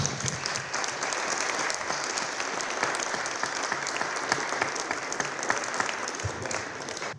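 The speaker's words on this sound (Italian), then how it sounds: "un grande applauso" An evening audience at a conference gives a long, sustained round of applause, a dense, even patter of many hands at moderate distance with crisp individual claps poking through, no talk.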